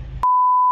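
A mobile phone's steady, loud, pure-tone beep plays through a newly installed car audio system in a VW Jetta MK7. It follows a brief, low-pitched murmur.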